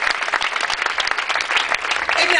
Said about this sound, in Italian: qui c'è un applauso